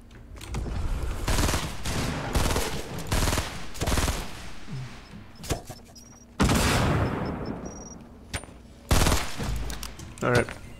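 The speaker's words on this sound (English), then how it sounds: "he's got a shotgun." Repeated shotgun blasts and gunfire from the video game Fortnite, a rapid series of loud, sharp bursts with brief pauses, a few heavier booming shots standing out near the end, all close and dominant over faint game ambience.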